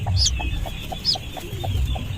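A mother hen clucks in a steady series of short, soft, evenly spaced notes at close range, with a couple of higher chirps over a low rumble of background noise.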